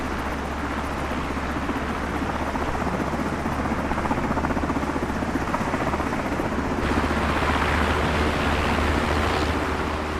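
An MH-60 helicopter in Microsoft Flight Simulator flies along the Florida Keys, its rotor thumping and turbine engine roaring in a loud, continuous drone that swells slightly near the end, with no talking.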